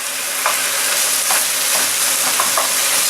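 A pan of diced tomato mixture sizzles steadily while a spoon stirs it, with a few soft scraping strokes over the constant frying hiss, close and without talk.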